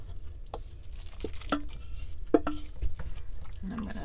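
Pasta noodles being stirred into creamy chicken noodle soup in a slow cooker, with soft scraping and occasional clinks of a utensil against the pot, close by and steady over a low background hum.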